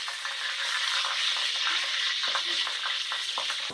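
Curry leaves hit about two tablespoons of hot oil for aloo ki tarkari, producing a steady, bright sizzle with scattered crackles, close and without talk.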